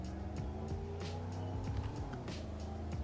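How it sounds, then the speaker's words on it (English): A 1969 Dodge Coronet engine pulling hard in third gear at about 40 mph, a loud steady roar with rising tone heard from inside the car, continuous and without talk. "in third gear when you're going like 40 miles an hour and you just press on the gas"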